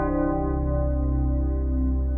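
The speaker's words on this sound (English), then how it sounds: "The Top Gun Bells." Yamaha DX7 synthesizer playing a Top Gun bells patch, an octave too low: one sustained, evenly ringing FM chord with dense steady harmonics, loud and close, no talk.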